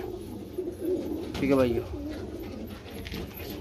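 Soft cooing of Deobandi high-flyer pigeons rises briefly under a man's speech, the low throaty calls blending with his voice against mild background noise.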